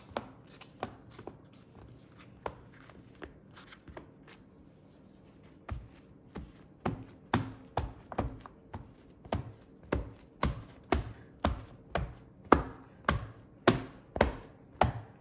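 Knife chopping food into cubes on a board, starting as sparse, irregular taps and settling into a steady run of sharp, evenly spaced chops, close and clear with no talking.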